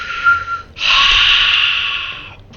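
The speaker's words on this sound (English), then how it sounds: "Deep breath" A deep breath in a sci-fi combat video game: a brief intake, then a long, loud, steady exhale lasting over a second, close and breathy.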